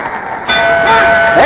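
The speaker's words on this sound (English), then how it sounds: "There's the bell." Ring bell sounding at the end of the sixth round of a title fight in Miami Beach between Paret and Griffith, a bright clang rising over steady arena crowd noise and ringing on as the round closes.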